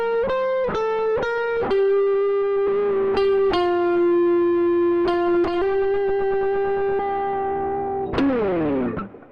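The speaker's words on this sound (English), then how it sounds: "It's a kind of guitar fuzz kind of preset." Electric guitar played through the Arturia Op Amp 21 fuzz effect preset: a series of plucked, sustained fuzzy notes and short repeated stabs, ending with a final bright, swelling struck chord, all loud and alone.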